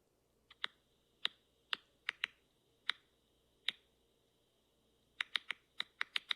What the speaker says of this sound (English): It's like clicking or like popping popcorn, they compared it to.